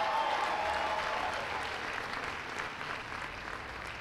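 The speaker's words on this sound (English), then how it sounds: "Give yourselves a big round of applause." Sustained applause from a commencement audience at Bronx Community College, a dense, steady wash of many hands clapping that holds for the whole stretch and fades only slightly toward the end.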